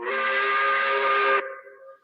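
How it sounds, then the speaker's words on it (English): The 5 o'clock whistle sounds as one loud, steady, steam-like blast that holds for over a second, then cuts off and trails into a fading echo. "We recognize this special time of the week by blowing the 5 o'clock whistle."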